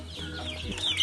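Hens clucking close by as they are fed BSF larvae from a tray, short low clucks and a few sharper calls in a quick burst.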